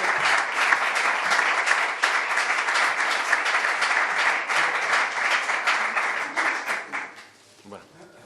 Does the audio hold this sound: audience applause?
yes